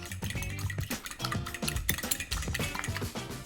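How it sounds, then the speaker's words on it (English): Two eggs being whisked in a bowl make a rapid, rhythmic clatter of the whisk against the sides, a steady run of close scraping clicks. "So we're just gonna dump them in and just whisk them up."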